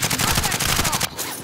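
Rapid automatic gunfire fills a Call of Duty: Modern Warfare match, a dense, loud burst of closely spaced shots that cuts off abruptly near the end.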